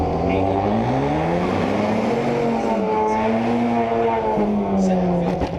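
A 2015 Ford Mustang EcoBoost making a 1/8 mile drag run, its engine droning loud and steady with rising and falling pitch through the gears under a constant roar, close and continuous throughout.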